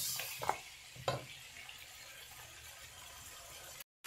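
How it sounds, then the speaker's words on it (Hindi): Mutton roasts in a pot with ginger garlic paste for Sindhi-style pulao, a low continuous sizzle broken by two sharp stirring knocks early on, close and free of speech, ending in a brief cut to silence. "1 से 2 मिनट इसको अच्छे से हम भुनाई करेंगे।"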